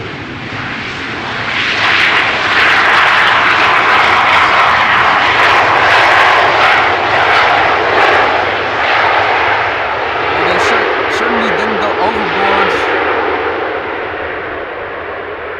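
Jet engine roar from a Georgian Airways airliner arriving at Amsterdam Schiphol on runway 18R, building loud and close then easing off, with a voice talking faintly beneath it.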